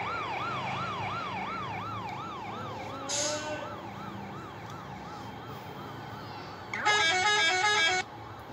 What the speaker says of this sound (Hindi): ये मेरा ही हॉर्न था।